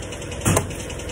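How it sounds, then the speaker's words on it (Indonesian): A freshly overhauled car engine running rough, a steady mid-pitched idle with a brief louder surge in the middle of the short stretch, heard alone without talk. "nah dengarkan suara mesinnya suara mesinnya seperti ini lur"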